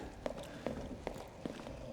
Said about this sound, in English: Footsteps on the marble.